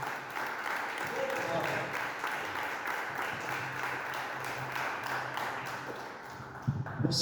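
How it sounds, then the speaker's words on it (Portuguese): A church congregation applauds in a sustained, dense wash of clapping that carries on for several seconds, with voices audible over it. "Vamos aplaudir a Jesus no forte."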